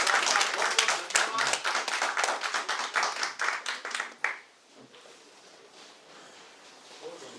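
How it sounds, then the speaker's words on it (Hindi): An audience at an insurance advisors' seminar claps briskly for about four seconds, then the applause quickly dies away into quiet room tone. "एक बार जोरदार तालियां"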